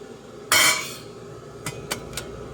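A metal lid set back onto a cooking pot on the stove with one sharp clattering clank, followed by three lighter clinks as it settles, close and alone.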